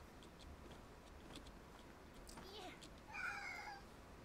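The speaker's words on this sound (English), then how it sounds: "Screamy cat." A cat-like creature in the Palworld video game lets out a screeching, wavering cry that rises late in the clip, distinct above a steady bed of game ambience.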